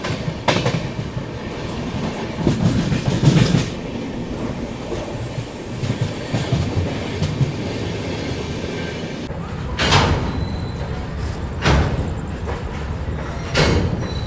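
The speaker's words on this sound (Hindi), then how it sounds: "ये लेक के बगल से एकदम ट्रेन चल रही है" The Delhi to Yeswanthpur Duronto Express runs at night beside a lake near Kazipet, its steady rumble and clickety-clack on the rails broken by a few sharp, loud clanks.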